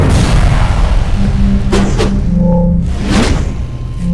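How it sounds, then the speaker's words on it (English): A grenade going off in the Company of Heroes video game, heard as a loud low boom inside a dense wash of battle rumble, with a few sharper bursts and whistling tones layered over it. "Grenade."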